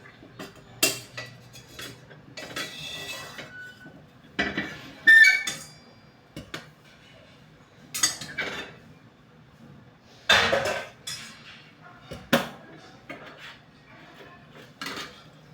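A spoon scrapes and clatters in a pan as vegetable bhaji is stirred over a gas stove. Scattered metallic clinks and scrapes repeat irregularly, close and fairly soft, with faint background noise.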